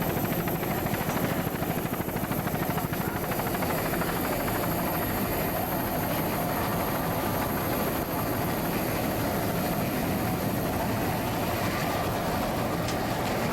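A camera helicopter flies alongside offshore racing boats at a Sarasota, Florida offshore grand prix, its steady, loud rotor chop and engine roar filling the whole stretch without a break.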